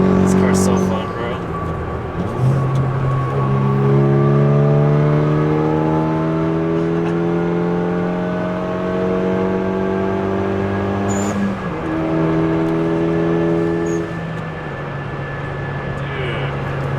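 A 2016 Kia Forte running on E85 revs repeatedly, engine tone climbing in long pulls and dropping between them, with sharp blow-off valve hisses at the breaks; loud and close, heard from inside the car.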